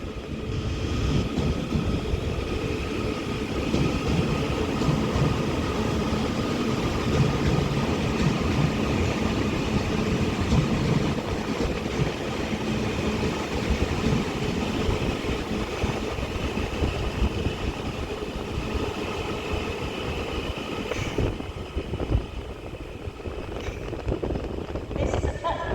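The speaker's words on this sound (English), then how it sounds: "33111 departs Liverpool Lime Street now for Blackpool North" A Class 331 electric unit, 331111, departs Liverpool Lime Street for Blackpool North, a steady, loud rumble of wheels and motors filling the station, with voices in the background.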